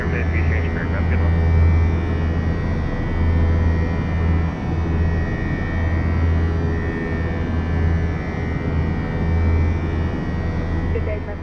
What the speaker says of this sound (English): Tell me that doesn't sound like we're on a real airplane.